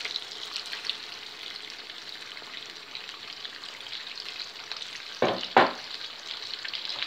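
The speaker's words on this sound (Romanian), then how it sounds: "Acum o să adăugăm sucul nostru de roșii. Îl punem pe tot." Meatballs fry with a steady crackling sizzle in the pan, then tomato juice is poured in, causing two loud splashing bursts of hissing near the end.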